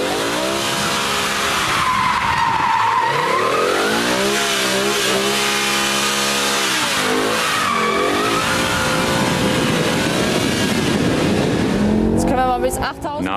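A BMW M6 Convertible's V10 engine revs loudly and continuously, climbing and falling in pitch as it winds toward 8,000 rpm, with tyre squeal mixed in; near and dominant throughout.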